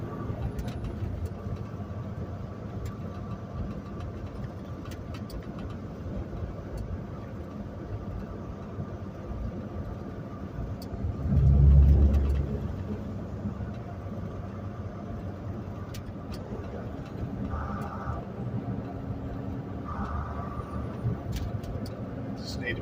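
A car engine drones steadily while driving a snowy, deserted Highway 93 in southwest Oregon at night, a low constant rumble with one brief swell partway through, while the driver talks.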